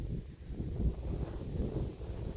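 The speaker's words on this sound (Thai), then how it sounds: "ตอนนี้ก็ลมลมแรง" Strong wind gusts across a heading rice field of the Tong 888 variety, 63 days after sowing, as a steady low rumble and buffeting on the microphone with no voices.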